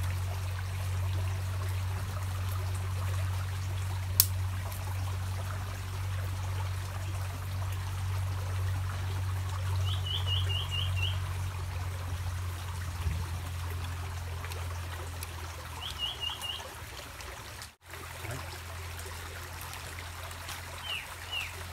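Steady stream water flows in the background throughout, a continuous low rushing with occasional faint bird chirps over it, in a forest setting where people are grilling dried stingray and herring.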